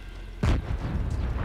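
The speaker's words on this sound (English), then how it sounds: "Cannon is gonna shoot." A cannon fires in the World War II shooter game Sniper Elite 5, a single heavy boom that starts suddenly and rumbles loudly before settling into a sustained low rumble of game ambience.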